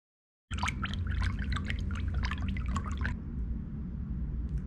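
Lye water poured into oils for cold process soap: a splashy, dripping pour with scattered droplet ticks settles into a steady, smooth stream, close and clear with no talking.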